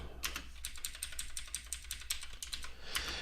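Code is typed on a computer keyboard in a quick, steady run of crisp, close key clicks, with no voices.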